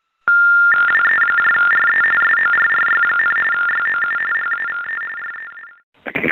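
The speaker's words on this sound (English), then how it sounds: "The following tones are for the hard of hearing." A telephone network's disconnected-number tone plays loud and alone, a sustained electronic tone running several seconds before cutting off, followed by a brief burst of noise.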